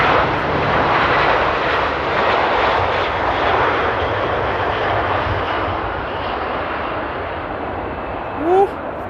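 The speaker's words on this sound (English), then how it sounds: "Now talk about a smooth landing." Jet airliner landing in strong wind at Amsterdam Airport, a loud, sustained engine roar that slowly fades, with people talking briefly near the end.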